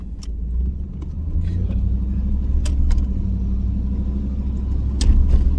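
A 1991 Chevrolet Camaro RS with a high-flow catalytic converter pulls away steadily, its engine note rumbling low and building gradually from inside the car, with a few faint clicks and rattles and no talking.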